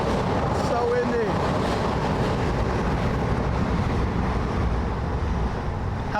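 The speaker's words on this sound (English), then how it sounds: "It's so windy." Strong wind buffeting the microphone at Kasai Rinkai Park, a loud continuous low rumble and roar that never lets up, with a voice briefly heard early on.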